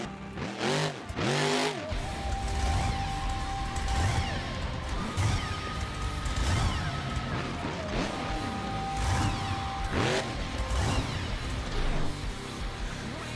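Stinger monster truck in a BeamNG.drive video game Monster Jam arena two-wheel skills run, engine droning with loud crashing thumps, tire squeals and bangs as the truck lands and tilts, continuous and close.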